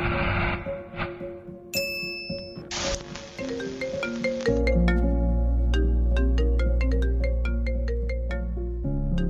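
A mobile phone rings for an incoming call with a bright electronic ringtone melody, preceded by a few short dings and chimes, repeating steadily and loud with no talking.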